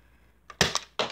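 A Nerf Sledgefire blaster fires blue Elite darts loaded in a shell: a few sharp, close clacks and thumps in quick succession, with the loudest pop followed by a fainter click and another firm snap.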